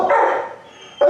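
A small, old adoptable dog with one tooth left barks, two loud, close, rasping yaps separated by a short gap, clear and with no talk over them.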